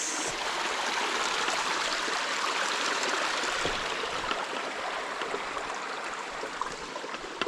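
A stream flows steadily nearby, a constant rushing, burbling wash of water with no voices and no breaks.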